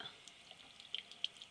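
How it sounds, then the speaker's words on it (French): A thin stream of lukewarm tap water trickles into a sink while paintbrushes are washed, giving faint, close splashing with a few small, sharp drips scattered over a soft hiss. "Un petit filet d'eau tiède."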